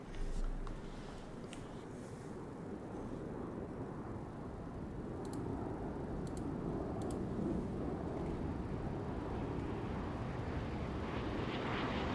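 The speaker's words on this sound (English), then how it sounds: "The airplane came up just a touch after touchdown" A Boeing 777-200ER airliner lands in the FlightFactor flight simulator, its engines giving a steady low roar that builds gradually through touchdown and rollout, with a few faint clicks above and no talking.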